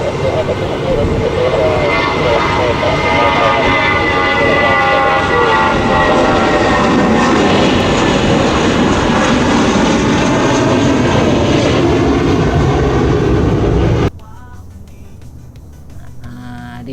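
Steady loud engine roar fills an airplane cabin during flight, a dense continuous drone with tonal hum that suddenly drops away near the end, leaving a quieter hush.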